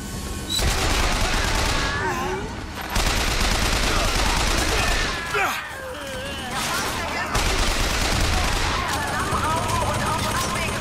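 Sustained automatic gunfire from a turret in BioShock Infinite, loud and dense bursts rattling on with brief pauses, mixed with game effects and a voice talking over it.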